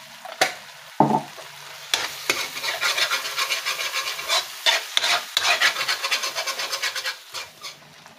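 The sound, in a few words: stirring and sizzling mushrooms frying in a pan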